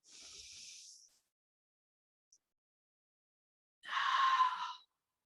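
Deep breathing during a guided exercise: one long airy exhale up close, a pause, then a stronger, louder breath lasting about a second, with near silence between them.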